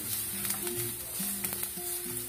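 Garlic, pepper and parsley frying in a pan as they are stirred, a close continuous sizzle with faint scraping from the stirring, while a low hum continues underneath.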